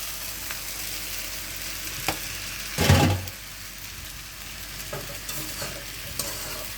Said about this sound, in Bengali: দিয়ে ভালো করে নেড়ে চেড়ে মিক্স করে নিব। ডিমটা, নুডলসটা, পেঁয়াজটা ভালোভাবে একসাথে মিক্স করে নেব।